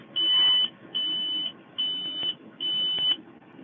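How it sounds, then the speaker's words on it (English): A farm planter's alarm gives four long, steady electronic beeps in an even rhythm, loud and close, with a low machine rumble underneath. "get ready for the alarm. It's gonna go off for a while."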